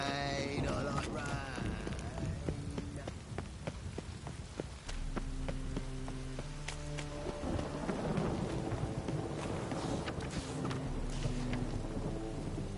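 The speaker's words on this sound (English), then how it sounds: "Señora, está lloviendo." Steady heavy rain pours in The Witcher 3, with thunder cracks and rumbles rolling through it. Soft musical tones sit underneath the storm, and no one speaks.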